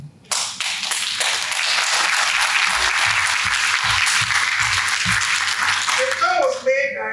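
An audience applauds at an Iowa heritage event on restitution, giving a dense, sustained wash of many hands clapping that starts abruptly and holds steady for several seconds before fading as a voice returns near the end.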